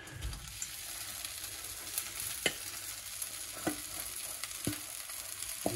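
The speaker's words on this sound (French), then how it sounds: "Et on va verser nos aubergines." Aubergines hit a hot, worn frying pan and sizzle with a steady broadband hiss, broken by a few sharp utensil taps and scrapes, close and moderately quiet.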